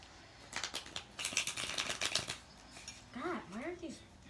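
UNO cards being shuffled by hand at a home game table, a run of quick riffling card flutters in two bursts, followed by a short voiced exclamation from a player.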